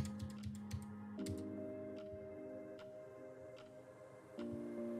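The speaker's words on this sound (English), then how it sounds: "We type in our password." Password being typed on a computer keyboard, a quick run of sharp key clicks at the start followed by scattered single taps, quiet and close, over a steady electronic hum.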